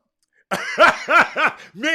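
A person clears their throat and coughs a few times in quick rough bursts, close and fairly loud, after a moment of silence.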